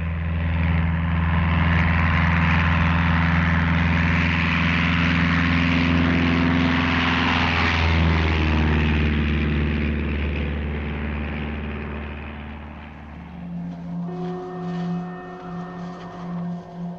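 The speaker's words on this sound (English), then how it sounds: "I am sending an aircraft to find the way." A propeller aircraft drones steadily overhead in a polar icebound setting, a loud sustained engine hum that swells and then slowly fades, with a shift in tone near the end.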